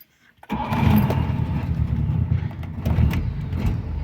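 Cold start of a Trabant 601's small two-stroke engine: a brief crank catches at once into a loud, steady, buzzing idle with slight uneven surges, heard up close.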